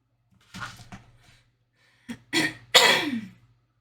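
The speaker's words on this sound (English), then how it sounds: "Sorry about me clearing my throat." Someone clears their throat several times in short, raspy bursts, close by in an otherwise quiet room, the last one the loudest.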